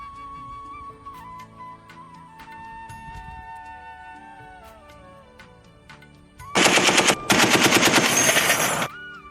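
After a quiet stretch of plucked melody, a loud burst of rapid automatic gunfire erupts in two long volleys filling the final three seconds.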